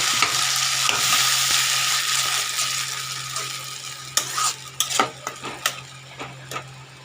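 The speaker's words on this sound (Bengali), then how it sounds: "এই যে মশলাটা করে রেখে দিয়েছিলাম যে সেই মশলাটা আমি দিয়ে ভালো করে কষিয়ে নেব" Fried momos and a prepared spice mix are stir-fried in a pan with a loud, steady sizzle, then a run of scraping spatula strokes and clinks against the pan near the end.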